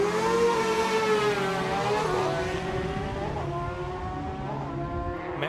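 A race car at a street sprint threads a chicane, its engine note sweeping down as it brakes, then rising again with layered harmonics, fairly loud and close, with no talk over it.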